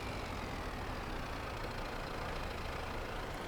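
A tractor in Farming Simulator 22 drives slowly across grass, its engine producing a steady, droning low rumble that holds an even level throughout with no voices over it.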